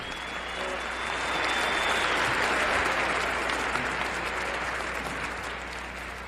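Crowd applause for a band, a sustained wash of clapping that swells and holds steady at a moderate distance.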